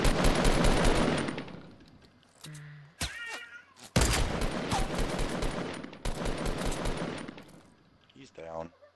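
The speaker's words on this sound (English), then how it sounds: "I'm getting shot." Gunfire in the Fortnite video game, long rapid bursts of shots broken by short gaps, with squealing game sound effects between volleys.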